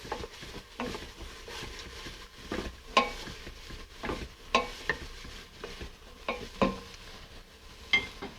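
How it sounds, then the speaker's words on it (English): Vegetables cook in a pot over medium heat as the base for a prawn bisque, giving a faint, steady sizzle with occasional soft scrapes and clinks from stirring, close by, without any voices. "The vegetables have been swirling on medium heat for about 5 minutes."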